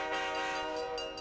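A train horn blares in sustained harmonic tones over rolling rail noise, loud and close, in a radio advert for a train show.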